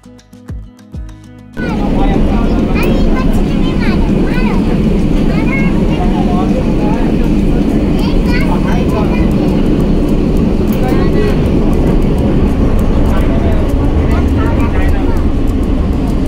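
Interior of a Kolkata metro train heading to Dakshineswar, with a loud, steady rumble and roar of the moving carriage filling the whole stretch after a brief quieter start, and people talking faintly underneath.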